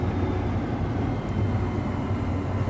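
Fire Boss AT-802 firefighting aircraft taxiing in a VR flight simulator, a steady droning propeller and engine rumble that holds constant and fairly loud with no voices.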